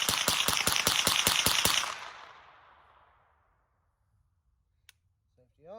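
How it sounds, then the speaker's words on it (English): An AR-15 rifle fires a rapid string of about eight sharp, loud shots in even rhythm over the first two seconds, followed by a long echoing decay into near silence and a faint click and brief voice near the end. "safety off, firing in 3"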